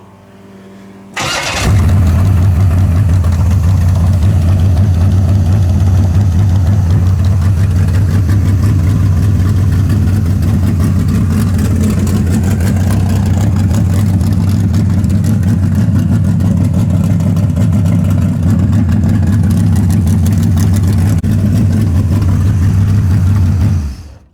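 A Camaro engine fitted with a 750 blow-through carburetor fires up after the ignition is switched on with about 6 pounds of fuel pressure, then idles steadily and loudly at close range for over twenty seconds with no talking.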